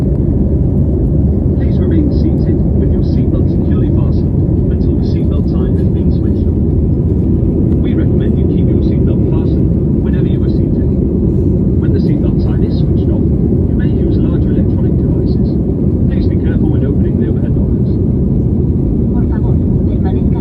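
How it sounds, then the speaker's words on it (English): A passenger plane takes off from Barcelona airport with a loud, steady engine roar lasting about twenty seconds, and faint voices murmur underneath. "So that was the plane taking off from Barcelona airport."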